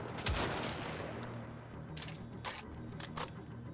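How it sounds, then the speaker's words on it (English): Gunfire in the shooter game Wolfenstein: The Old Blood, a heavy shot at the start followed by several sharp, crackling bursts of fire at a moderate distance over low background rumble. "good thing that gun hits hard"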